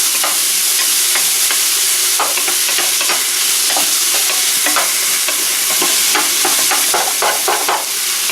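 Chopped onion sizzles and crackles steadily in a hot frying pan, with scattered sharper pops and the scrape of stirring throughout, close and loud with no talking.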